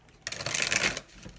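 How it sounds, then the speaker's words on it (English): Tarot cards being shuffled, a single brief, close riffling burst of rapid papery flutter. "Sacred Traveler, 2 more shuffles"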